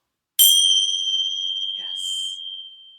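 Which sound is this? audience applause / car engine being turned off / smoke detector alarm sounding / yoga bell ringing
yoga bell ringing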